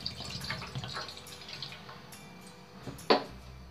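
About 1.5 cups of water are added to a pan on a gas stove to make sugar syrup, with soft trickling and dripping and then one sharp close splash near the end.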